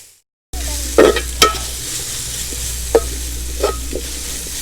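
Onions sautéing in a pan for chicken thoran, a constant close sizzle broken by a few distinct scrapes and taps from a spoon stirring them.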